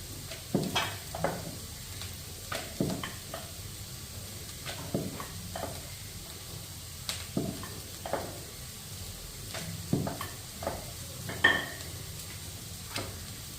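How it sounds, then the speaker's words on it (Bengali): Potatoes and cabbage frying together in a pan, with a soft steady sizzle broken by repeated clicks and scrapes from stirring. The strokes come in an irregular rhythm at close range, and no one speaks. "এদিকে আলু ভাজা বসাইছি, আর আলু আর বাঁধাকপি মিলাইয়া"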